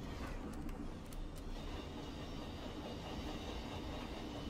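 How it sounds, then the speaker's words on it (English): Rail cars roll by in a Train Simulator game on the Tehachapi Pass route, a steady, dense rumble of wheels on track with a few brief clicks and faint squeals near the start. "I'm curious about the rail car sounds, though, so we'll let those roll by."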